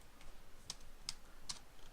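A few faint, crisp clicks of keys tapped at an even pace, three distinct strikes over a quiet background hiss.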